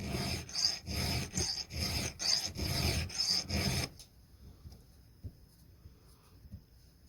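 A metal file rasps a burr off a saw tooth in quick, rhythmic back-and-forth strokes for about four seconds, close and steady, then stops, leaving near silence with faint small knocks.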